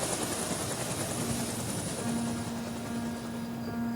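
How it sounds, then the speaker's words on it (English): Helicopter from the video game Above the Snow, a steady rotor and engine drone with a constant hum, moderately loud and unbroken throughout, no talking. "Oh my god, the helicopter is so cool."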